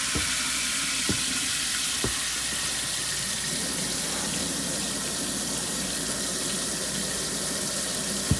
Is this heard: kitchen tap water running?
yes